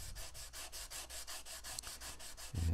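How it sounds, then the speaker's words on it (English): Block sanding a Fender maple guitar neck finish during a repair: quick, even back-and-forth rasping strokes of sandpaper on a block, about a dozen in a steady rhythm, fairly quiet and close, ending in a low thump. "this is the first level sanding here with a block"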